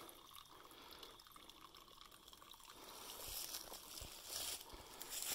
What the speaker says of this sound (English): Even got a little waterfall.